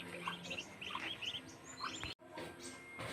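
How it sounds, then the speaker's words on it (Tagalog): Newly hatched ducklings in a backyard pen give rapid, high, repeated peeps, close by and fairly steady, with no talking. "May bagong panganak na mga pato. Mga bago pala, mga baby pa."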